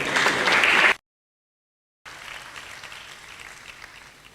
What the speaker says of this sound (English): The clapping is not much.